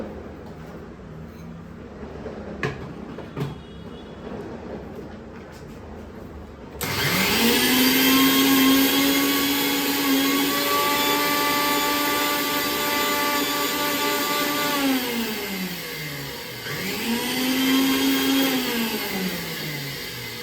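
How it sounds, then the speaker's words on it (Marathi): A kitchen mixer grinder whirs loudly as it grinds a mixture for besan ladoo, starting abruptly after quiet handling clicks, holding a high motor whine, then briefly dropping and spinning back up. "तर आता हे परत मिक्सरमध्ये ग्राइंड करायला टाकते"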